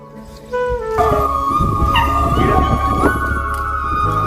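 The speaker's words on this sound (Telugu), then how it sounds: "ఇగో మా తోట బావిలో కుక్క పడ్డది ఇలా నూతిలా" A dog that has fallen into a farm well cries loudly and close by, letting out sustained howls and whimpering yips that echo as if from an enclosed space.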